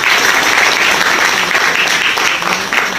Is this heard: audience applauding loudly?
yes